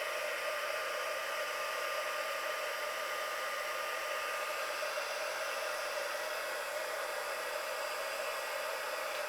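A heat embossing tool blows hot air over a craft piece, giving a steady, even, hissing whoosh that holds unbroken from start to end, fairly faint and with no voices.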